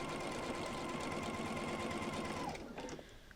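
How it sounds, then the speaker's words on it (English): Sewing machine stitching quilt pieces for a chevron block, a steady close mechanical whir and rapid needle chatter running continuously for about two and a half seconds before stopping, leaving a few faint handling clicks. "I want to be sewing pretty much right into the middle of that intersection."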